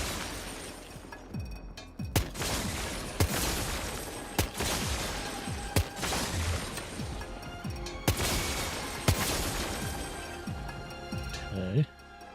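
Semi-automatic rifle shots fire at a firing range in the video game Death Stranding 2. Roughly nine sharp single reports come at irregular intervals, loud and close, with a voice speaking between them.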